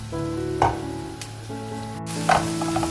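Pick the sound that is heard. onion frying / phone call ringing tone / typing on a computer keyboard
onion frying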